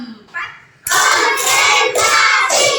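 Children in a classroom clap their hands in a counted rhythm led by a teacher, a few loud close claps arriving in quick bursts after a brief quieter opening.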